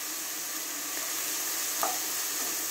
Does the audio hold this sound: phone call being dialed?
no